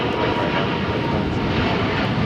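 A Delta heavy jet on final approach to runway 25 left at LAX, with a loud, steady broadband engine roar that holds without a break from start to finish and no talk over it.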